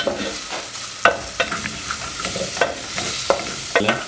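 Samosa filling frying in a pan with a soft steady sizzle, broken by regular scrapes and taps of a spoon stirring, heard up close with no talk.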